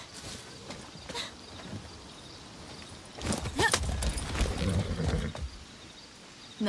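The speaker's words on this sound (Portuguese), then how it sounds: "Bom, pelo menos aqui tem cavalo." A horse's hooves clip-clop at walking pace in the video game Far Cry 6. The steps are close and clear and grow louder and busier in the second half.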